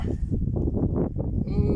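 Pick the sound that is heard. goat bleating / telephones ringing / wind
goat bleating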